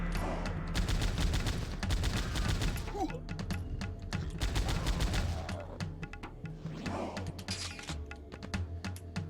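Rapid bursts of gunfire from the retro shooter Powerslave Exhumed, in dense repeated volleys over game music and effects, loud and continuous for much of the stretch with a brief lull midway.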